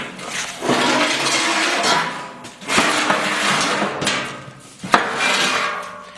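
Rapid, harsh mechanical hammering on a sheet metal Willys CJ5 front fender comes in three long bursts, each a dense rattling clatter with brief pauses between.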